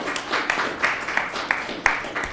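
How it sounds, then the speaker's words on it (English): A small room of people at a city council meeting gives a brief round of clapping, quiet and a little sparse, with a few sharper claps standing out and some murmured voices underneath. "Pause for applause."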